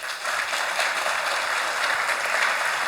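A crowd applauds in welcome at a national security talk event, a dense, steady wash of clapping that stays loud and even for a few seconds with no voices over it.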